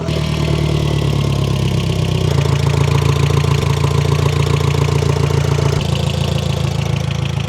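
A turbocharged Audi MK1 TT engine idles steadily with a rough, uneven rumble, and a constant whine from a power steering pump low on fluid rides on top throughout.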